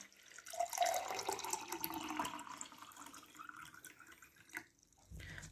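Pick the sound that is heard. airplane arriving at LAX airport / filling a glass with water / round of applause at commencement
filling a glass with water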